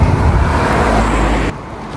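A car rushes past loudly and close on a road during a hike, a broad steady roar that drops off abruptly partway through.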